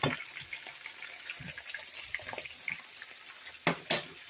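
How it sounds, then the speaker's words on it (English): Fresh catfish fillets fry in hot oil in a southern-style pan fry, with a soft crackling sizzle under scattered clinks and two sharper splashy bursts near the end, no talking. "you want to make sure that it all hits the oil here"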